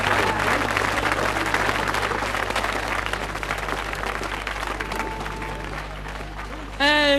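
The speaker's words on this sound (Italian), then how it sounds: "Un applausone che viene lui." A live concert audience at RSI in 1981 applauds a guest with dense, sustained clapping that slowly fades, and a voice breaks in briefly at the very end.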